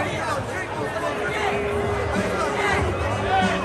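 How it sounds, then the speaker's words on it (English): A baseball crowd booing during a bench-clearing brawl between the Padres and Dodgers, a broad, sustained roar of massed voices with babble mixed through it. "We've got some booing"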